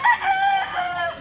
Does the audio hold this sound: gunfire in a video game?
no